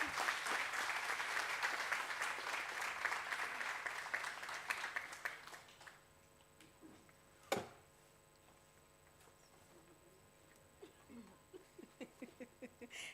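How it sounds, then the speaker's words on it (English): An audience claps to welcome a speaker at a Women's Month 2024 event, steady dense applause for about six seconds that then thins to a few scattered claps in a quieter room. "Please may you all join me in clapping hands"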